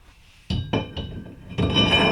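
A brake rotor for an Acura RSX drag brake kit is handled and fitted onto the hub, making several sharp metallic clinks close by, followed by a sustained metallic rattle.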